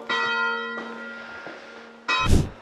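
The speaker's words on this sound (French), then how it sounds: "Ah, les sonne-cloches" Church bells ring with sustained, resonant metallic tones. One long stroke hums, another follows, and a third chime sounds near the end, fairly close and loud.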